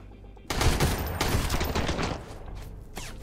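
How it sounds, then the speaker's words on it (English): Machine gun fire in the survival game Sunkenland, a dense, loud burst of rapid automatic shots that starts after a brief quiet moment and keeps rattling on, easing slightly toward the end. "They have some machine gun"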